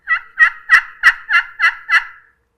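A glass-over-aluminum friction turkey call plays a loud, clear yelp of seven evenly spaced notes, close and alone with no other sound around it.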